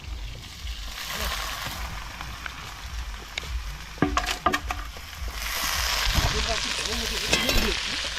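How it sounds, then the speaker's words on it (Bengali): Onion fries in hot oil at an outdoor winter picnic where duck meat is being cooked, a steady sizzle with a few sharp clatters of stirring that swells louder toward the end. "अब प्याजটা ভাজা হবে"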